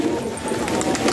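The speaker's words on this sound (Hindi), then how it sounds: "कुछ और कबूतर भी हैं" Several pigeons, including a newly acquired flock, coo softly and continuously in a cold outdoor loft, a low steady murmur with faint higher chirps scattered over it.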